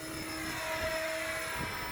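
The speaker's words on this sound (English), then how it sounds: "Here we got Hank flying one of his helicopters." A small electric 6-cell radio-controlled model helicopter flies at an RC field on a windy day, its motor and rotor whine humming steadily at moderate distance with a faint, even drone throughout.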